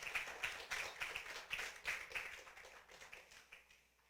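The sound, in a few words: congregation clapping as an offering to God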